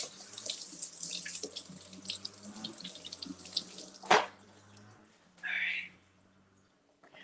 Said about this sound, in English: let's rinse off our cabbage head